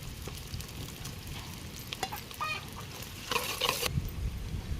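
Thinly sliced large onion, five green chilies and a handful of curry leaves fry in a pan for a country chicken curry, a quiet steady sizzle with occasional stirring scrapes and a louder burst near the end.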